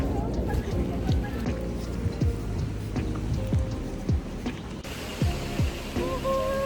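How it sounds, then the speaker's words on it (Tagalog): Steady rain patters on a surface in Chuncheon, South Korea, with drops splashing close by throughout and faint voices in the background. "It's raining."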